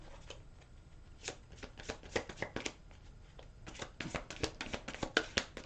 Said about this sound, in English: I'm shuffling them.